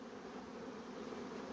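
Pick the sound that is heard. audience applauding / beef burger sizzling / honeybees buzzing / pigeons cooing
honeybees buzzing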